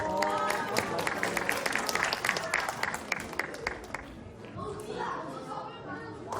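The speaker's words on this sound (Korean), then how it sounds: "박수 쳐주세요" An audience claps at an astronomy lecture during the Goheung space and aerospace festival. The applause comes in bright bursts mixed with talking and crowd chatter, then thins out toward the end.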